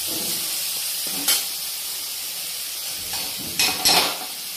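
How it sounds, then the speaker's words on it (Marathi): Water is poured into a pan of garlicky spinach, fenugreek and tomatoes frying together, producing a few sudden hissing sizzles over a low, steady background of frying. "थोडंसं पाणी टाकते."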